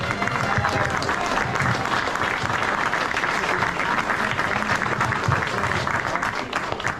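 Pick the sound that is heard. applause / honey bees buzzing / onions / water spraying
applause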